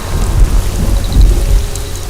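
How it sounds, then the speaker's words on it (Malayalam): Heavy rain pours down steadily during a thunderstorm, with deep rolling thunder rumbling loudly underneath and no voices. "നന്നായിട്ട് ഇടിയും വെട്ടുന്നുണ്ട്."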